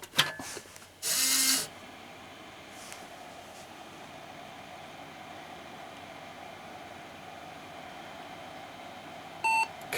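A Windows 98 desktop computer build with a cooling fan runs in a steady, close whooshing hum, interrupted by a brief loud electronic burst near the start and a short beep near the end, with no voices.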